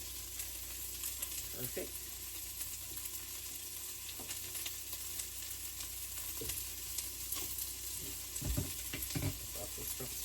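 Onions fry in a pan with a steady, close sizzle that runs continuously, a few stirring clicks and knocks breaking through, and a brief word spoken quietly.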